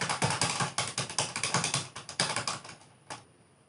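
Someone types fast on a computer keyboard, a close, quick patter of keystrokes that thins out near the end to a few last presses, with one separate key tap landing after a pause.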